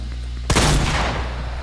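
A single loud, close gunshot from a Fortnite match cracks out suddenly after a low hum, followed by a ringing, decaying tail.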